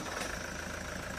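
Toyota Hi-Ace engine with a freshly replaced timing belt, about 110,000 km, running steadily just after starting: an even, dense idle drone close to the microphone, with no voices.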